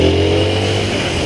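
A Honda CBR 125 R motorcycle engine revs in second gear, a loud close buzzing drone rising steadily from about 4,000 toward 6,000 rpm with no talk.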